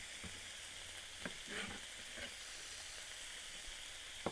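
Zucchini frying in a skillet, a steady faint sizzle with a few soft clicks and stirring knocks, close by and without talk.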